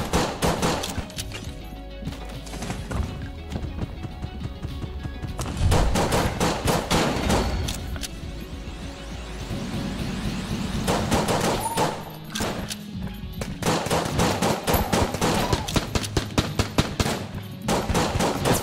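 Heavy, continuous gunfire from Enter the Gungeon, including AK-47 bullets: dense rapid bursts and overlapping shots run almost unbroken, loud and close, with brief lulls between volleys.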